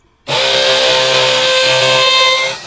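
A DongCheng DCPL165 cordless impact driver spins clockwise, starting abruptly after a brief silence into a loud, steady, high motor whine that holds for over two seconds before dropping off, with no voices.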